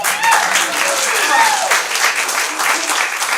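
A live audience at a Spontaneous Broadway improv musical show applauds for a crew member, the thick clapping steady and loud from start to end, with faint voices blended into it.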